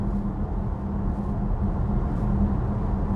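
A steady low hum and road rumble fill the cabin of an Audi Q6 e-tron Quattro electric SUV while driving, continuous and moderate in level, with no talking.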